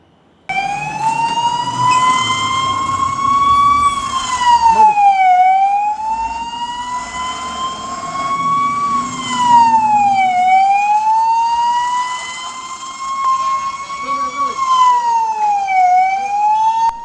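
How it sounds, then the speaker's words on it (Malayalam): A loud civil defense siren at a government school wails, rising and falling in long slow cycles, sounding continuously and close by with no other sounds. "Kundara Vellimon government UPSലാണ് siren മുഴങ്ങിയത്"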